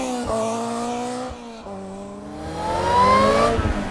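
Supercharged Ariel Atom 3R engine pulling hard nearby, its pitch climbing through the revs with a brief dip at a gear change before rising again, loud and steady throughout.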